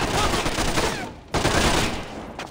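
Rapid gunfire bursts in Splinter Cell: Conviction, dense and loud, with a short pause before another sustained volley of crackling shots.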